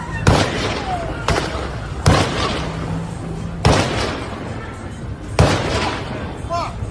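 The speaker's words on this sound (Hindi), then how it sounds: "वो दोनों लोगों पर दनादन गोलियां चलाते रहे" Gunfire during the terrorist attack at Bondi Beach in Sydney, fired from a small footbridge near the beach: five loud, sharp shots spaced irregularly about a second apart, with reverberation and crowd noise and voices underneath.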